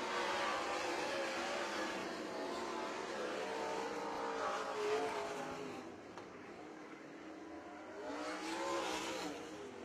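Race cars lapping an oval racetrack, engines droning steadily and swelling as cars pass, with a broad roar that rises again near the end, continuous and moderately distant.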